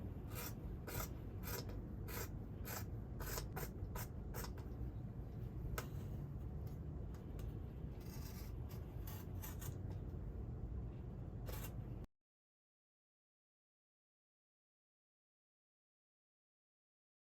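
Scissors snip and rasp through layered fabric while cutting out a kimono crop top, a close series of irregular crisp cuts and rubbing over about twelve seconds, followed by silence.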